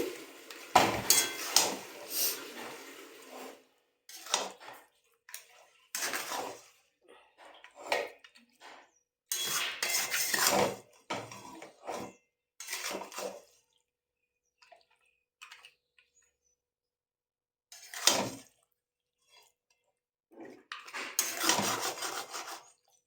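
Meat being stirred in a pot with oil, bay leaves already added, giving intermittent scraping, clinking and sizzling bursts close up, separated by quiet pauses, with no talking.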